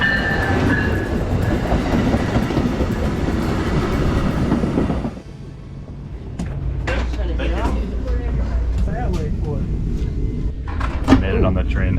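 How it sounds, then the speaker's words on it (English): A train rumbles loudly into a station, then the noise drops away and people talk nearby, with clunks and thuds. "The train is coming."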